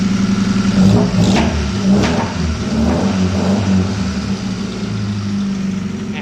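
A Ford Escort Mk1 engine runs close by, its steady mid-pitched drone swelling with repeated revs before settling back to a rough idle, with no one talking.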